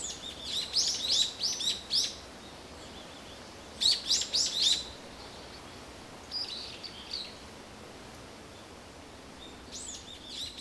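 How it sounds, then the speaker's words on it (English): Several bursts of high, trilling birdsong from a single bird drift over rolling hills with a soft outdoor hush; loud phrases near the start and around four seconds give way to fainter, distant echoing calls. "a single bird, and the bird song echoes over the hills"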